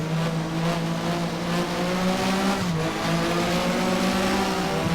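Porsche Super Cup race car at Brno in the Race07 sim, its engine droning loudly and steadily, with a brief dip in pitch as it shifts down to second before pulling hard again.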